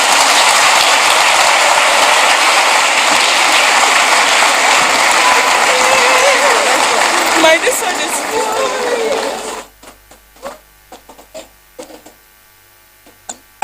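Sustained loud applause from a school audience at an Independence Day awards ceremony for schoolchildren, filling the first half and then cutting off abruptly, leaving scattered faint claps and small sounds.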